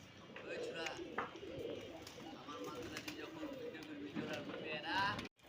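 Flyer pigeons, high-flying Rajshahi tumblers, coo continuously close by while someone talks over them, with a busy, crowded loft ambience throughout.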